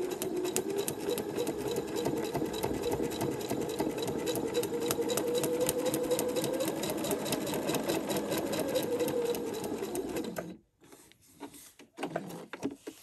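A sewing machine runs a continuous line of stitches across a foundation-paper-pieced quilt block, its steady mechanical whirr and rapid needle ticking close and even for about ten seconds before stopping abruptly, followed by a few brief handling clicks.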